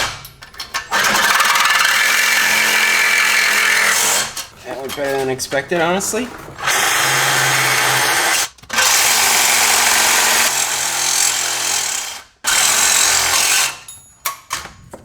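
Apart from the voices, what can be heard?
power tool cutting Porsche 944 exhaust bolts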